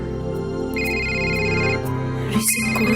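A mobile phone ringtone plays for an incoming call from an unknown number, a steady, fairly loud electronic melody with sustained tones and no talking.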